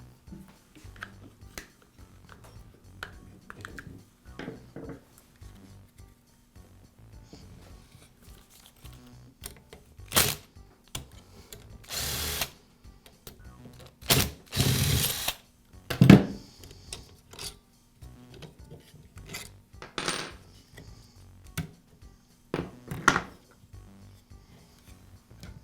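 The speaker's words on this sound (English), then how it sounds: "Now I'm going to remove the air filter base, the air filter, and the carburetor." Parts coming off a Troy-Bilt string trimmer as the air filter base, air filter and carburetor are removed, with scattered clicks, plastic rubbing and sharp handling knocks spread across a quiet workbench.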